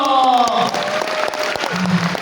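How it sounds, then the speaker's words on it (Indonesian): Applause from an audience at a live event, a close, continuous rattle of clapping with a voice speaking over the start and another brief vocal sound near the end. "Tepuk tangan dulu dong."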